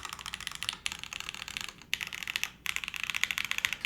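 Rapid typing on a custom mechanical keyboard, dense clacky keystrokes in quick bursts separated by brief pauses, close and crisp with no talking.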